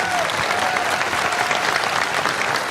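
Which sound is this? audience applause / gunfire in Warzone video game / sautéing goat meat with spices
audience applause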